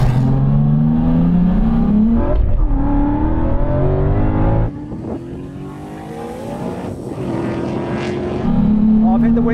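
A tuned BMW M3 of about 850 horsepower and a Ford Mustang of about 860 horsepower accelerate hard in a drag race, with a loud, close engine roar climbing through the revs, a sharp break midway, then surging again.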